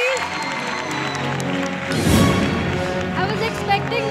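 Crowd applause for an award winner at a pastry competition event, with a burst of clapping and some cheering swelling midway over ongoing background voices and music.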